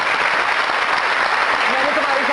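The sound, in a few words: studio audience applause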